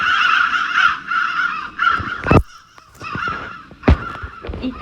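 A crowd of crows caws steadily in the video game Doors after the Feed the Birds item is used, the harsh calls overlapping continuously and punctuated by a few sharp, loud clacks.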